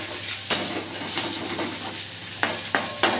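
Small shrimp and chopped onion fry lightly in a pan with a steady soft sizzle, broken by a few sharp scrapes and stirring clatters.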